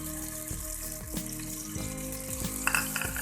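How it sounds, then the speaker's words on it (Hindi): A spoonful of cumin seeds fries in hot oil, giving a soft continuous crackle and sizzle with faint tonal hum and clinks behind, no talking. "जीरे को थोड़ा सा फ्राई करेंगे।"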